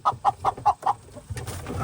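Jubilee Orpington hens clucking in a pen, five evenly spaced close clucks followed by softer scattered clucking and rustling.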